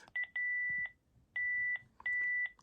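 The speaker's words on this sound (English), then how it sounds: "2 long beeps sound and the message is displayed." A few quiet electronic beeps from a Panasonic phone, mostly long steady tones separated by short pauses, with a brief chirp at the start.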